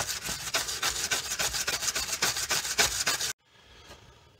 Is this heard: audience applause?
no